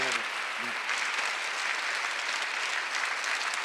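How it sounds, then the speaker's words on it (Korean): A church congregation at a Sunday service breaks into loud, dense applause that holds steady, with a brief voice at the very start. "박수 좀 세게 쳐봐요"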